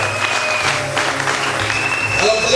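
Wedding guests at a religious marriage ceremony applaud together, a dense, steady burst of clapping with some crowd murmur and a faint voice underneath.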